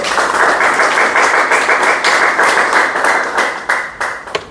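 A seminar audience applauds warmly, a dense wash of clapping that gradually thins out into a few scattered claps.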